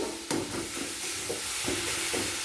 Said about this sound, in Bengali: সব মশলা নাড়াচাড়া করে নেব মশলা ভালোভাবে কষে নিচ্ছি